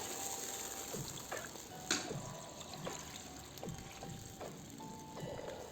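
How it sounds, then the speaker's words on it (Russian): Warm water, about 800 ml, poured into a kazan for Uzbek plov with flaxseed oil, a steady gushing liquid pour running throughout, moderately close with small splashy bursts. "Наливаю в казан примерно 800 мл теплой воды."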